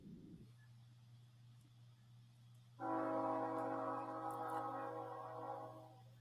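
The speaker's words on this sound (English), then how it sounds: "Of course, the train's coming by." A train horn sounds steadily near a baseball game, holding at first low and thin, then swelling into a loud, rich blast that sustains for several seconds before easing off.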